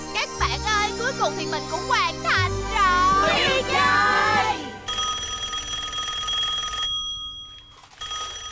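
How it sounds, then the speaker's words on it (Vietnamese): A telephone rings in a cartoon home, a steady electronic trill that starts after a stretch of animated chatter and music and keeps going alone for several seconds. "con nghe điện thoại giùm mẹ đi"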